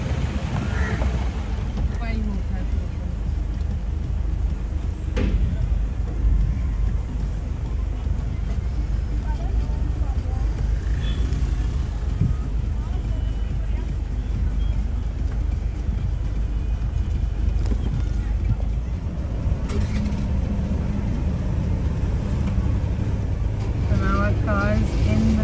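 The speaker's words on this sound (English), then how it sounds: "हम लोग अपनी व्हीकल लेके जा रहे हैं फेरी के अंदर" A car drives onto a ferry in Goa, its engine rumbling low and steady while sharp clanks and knocks ring out as the wheels cross the metal ramp. Voices are heard along the way.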